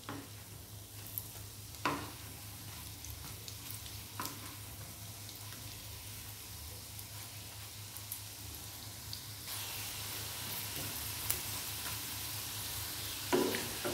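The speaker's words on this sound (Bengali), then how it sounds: "এই বড়াগুলো আমি আস্তে আস্তে উল্টে দেব।" Fish roe fritters sizzle steadily in hot oil while being flipped one by one, soft scrapes and taps breaking a constant frying hiss that grows brighter toward the end.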